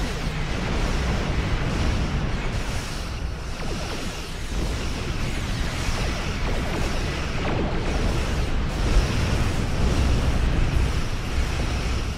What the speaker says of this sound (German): Schöne Explosion, by the way.